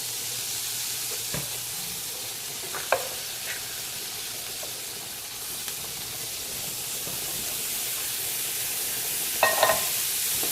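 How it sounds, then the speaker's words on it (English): Drained canned green beans sauté in melted butter, giving a soft, steady sizzle with a few sharp utensil clicks against the pan, fairly faint and with no talking. "People cook them different ways, but we're going to saute ours today."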